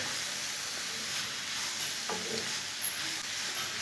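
Spice mix of red chilli, turmeric, whole coriander and whole cumin cooking in a pan for chicken kababs, a steady soft sizzle with a single scrape of stirring partway through.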